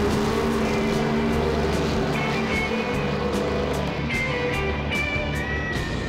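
Loud, continuous engine roar of cars on a quarter-mile drag strip in Detroit, with revving motors and a dense rumble filling the whole stretch.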